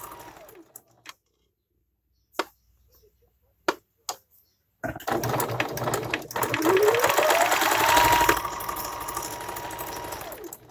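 A sewing machine stitches a quarter-inch seam on a fabric face mask, starting after a few scattered clicks and handling sounds, then running as a continuous close mechanical whir that rises in speed.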